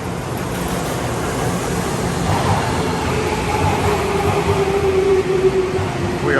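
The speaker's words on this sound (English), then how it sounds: "So here comes our train." A Tokyo Metro Hibiya Line train pulling into a station, heard as a loud continuous rumble and rush with a rising electric whine in the later seconds, no talking over it.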